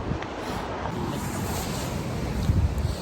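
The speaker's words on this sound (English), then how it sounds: "It is absolutely freezing in the wind." Strong, freezing wind gusts across an outdoor garden, buffeting the microphone in a continuous loud roar with no voices.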